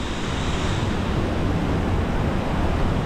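Small waterfalls at water level in the Grand Canyon send up a steady, broadband rush of splashing water, continuous and fairly loud throughout with no voices.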